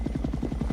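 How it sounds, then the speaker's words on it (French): Helicopters in a Con Air movie scene, a steady rapid rotor thump with a low engine drone, loud and continuous through a brief moment with no talk. "Des hélicos pour leur donner la chasse."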